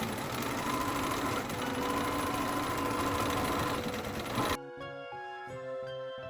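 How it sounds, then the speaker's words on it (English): A sewing machine stitches fabric for a dress, running in a loud steady rattling burst for about four and a half seconds before it stops and music takes over. "let's finally start some sewing"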